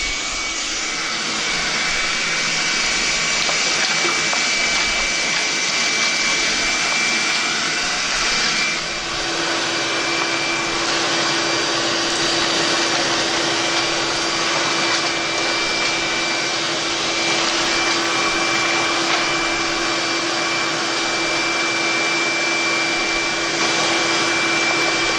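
A RIDGID 6 HP, 10-gallon wet/dry shop vacuum runs steadily and loudly the whole time, a constant rushing whine with a faint tonal hum and no talking over it.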